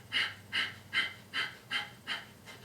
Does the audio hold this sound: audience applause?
no